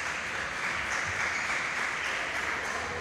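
Sustained crowd applause fills the arena as home supporters of Aris Nikaias clap through a women's-league-style game break, a thick continuous roar of hands, loud and unbroken.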